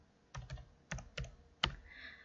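Keys clack on a computer keyboard in a quiet room, five or six distinct taps in an uneven rhythm, close and crisp with silence between strokes.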